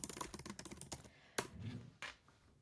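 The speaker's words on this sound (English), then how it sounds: "You can hear my typing because I have nice nails today" Close, quiet clicking of a computer keyboard typed with long fingernails, a rapid run of crisp taps followed by a pause and a couple of firmer isolated clacks.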